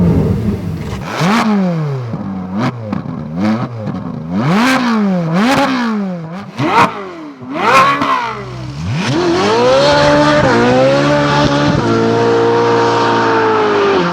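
A Ferrari 458 Speciale with a tuned 4.5 litre V8 blips and revs hard through repeated rising and falling sweeps. It then settles into a loud, sustained drive with a high tire squeal, heard close and alone.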